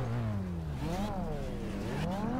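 A 13B rotary RX8 and a 2JZ-swapped Datsun 510 drag racing: an engine revs up, drops and climbs again in sweeping tones, close and loud, with a voice faintly underneath.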